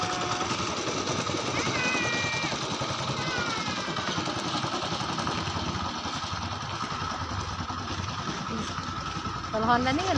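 A Honda motorcycle engine drones steadily as it crosses a flooded residential road. The broad, constant rumble continues without a break while people talk nearby.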